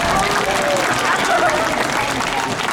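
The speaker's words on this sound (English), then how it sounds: "Please do give him a clap." An audience clapping for a sea lion at a show at West Midlands Safari Park: a short, dense burst of applause with voices mixed in.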